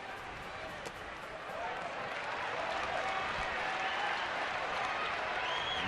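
A large baseball stadium crowd roars with sustained cheering and scattered applause. The noise swells and holds loud throughout. A broadcast commentator talks over it at the start.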